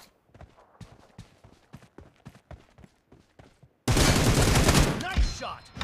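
Bursts of automatic gunfire in a BGMI team deathmatch, a loud, dense rattling volley near the end, preceded by a string of sharp, rhythmic individual shots.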